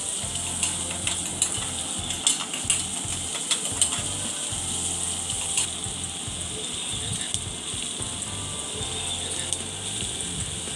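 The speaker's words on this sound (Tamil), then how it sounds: "எண்ணெய் நல்லா சூடானதுக்கப்புறம் வெங்காயம் சாப் பண்ணி வச்சுருந்த வெங்காயம் ஆட் பண்ணிவிட்டு இதை நல்லா 3 நிமிஷம் போல் பச்சை வாடை போகிற அளவுக்கு வதக்கிக்கோங்க வெங்காயத்தை" Chopped onions sauté in hot oil with a steady close sizzle and scattered crackling pops, stirred now and then, for a homemade pizza topping.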